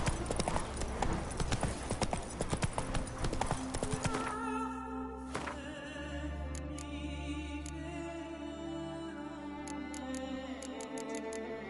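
Horse hooves clatter in a quick galloping rhythm in the Witcher III video game, then a horse whinnies and the scene settles into a softer ambient bed with faint ticking accents.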